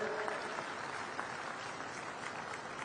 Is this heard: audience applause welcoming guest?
yes